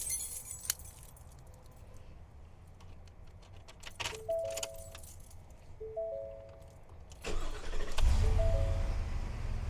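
Keys jingle and a chime rings before a Ford 7.3 Godzilla V8 cranks and fires up after its first oil change, the engine settling into a deep, close idle.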